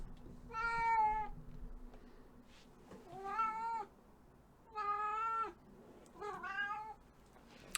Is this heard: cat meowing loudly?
yes